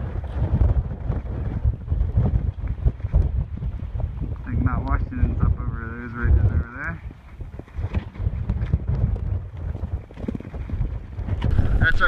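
Strong mountain wind buffets the microphone in heavy, gusting low roars on a clear winter hiking day, with a person talking briefly in the middle.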